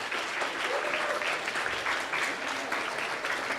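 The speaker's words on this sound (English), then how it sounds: "Let's once again give them a big round of applause." A school assembly audience gives a round of applause: dense, steady clapping from many hands, holding at an even level throughout.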